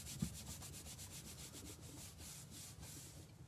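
Glued paper on a handmade Christmas tunnel card being burnished: quiet, close rhythmic rubbing strokes, about a dozen even swipes, with no talk.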